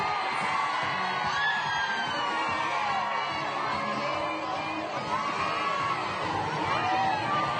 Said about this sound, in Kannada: ಮೋದಿಯವರ ಹತ್ರ ಬರ್ತಾ ಇದ್ದ ಹಾಗೇನೆ ಜನರ ಆ ಒಂದು ಹರ್ಷೋದ್ಗಾರ ಮುಗಿಲು ಮುಟ್ಟಿದೆ